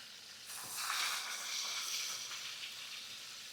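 Meat frying in a pan makes a quiet, steady hiss and sizzle that swells slightly after the first half-second and then holds evenly, with no talking.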